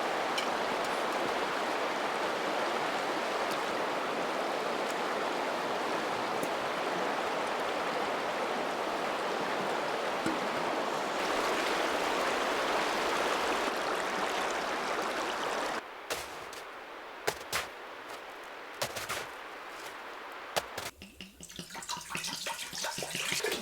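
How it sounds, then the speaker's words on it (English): A mountain river running through a winter landscape with ice along its banks, a steady broad rush of water that stays loud for most of the stretch, then gets choppier and uneven toward the end. "Oh, the river is so beautiful."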